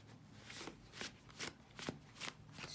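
A deck of energy reading cards being shuffled, about six soft riffling bursts in a steady rhythm, close and fairly quiet, with no talk.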